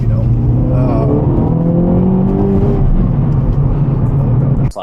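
A 2024 Acura Integra Type S, front-wheel drive, accelerates hard, its engine loud and close with a droning note climbing in pitch through the gears, and a voice faintly audible underneath.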